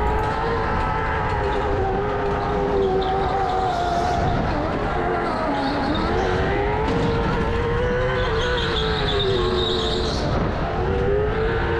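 A go-kart or racing car is pushed flat out with hot tires, its engine droning steadily with rising and falling pitch, while faint tire squeals sound briefly in the background.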